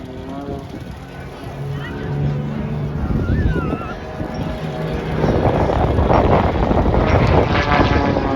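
Aerobatic aircraft at the Teesside Air Show perform a combined display, their engines a broad, building roar that swells over several seconds, mixed with wind buffeting the microphone and voices in the crowd.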